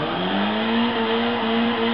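A Nissan Silvia S15 Spec-R spins out in a racing game, its engine holding a steady, loud drone with a slowly rising pitch while tyres squeal underneath, continuous throughout.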